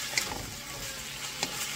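Chicken for Alfredo pasta cooks in a pan with a soft, steady sizzle and two brief stirring clinks, quiet and close.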